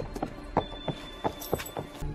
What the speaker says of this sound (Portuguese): Parecia um cavalo no teto.